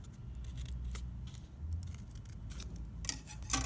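Scissors snipping triangle shapes out of folded paper for a rose window, quick close crisp cuts and a few sharper snips over a low hum, with no voice.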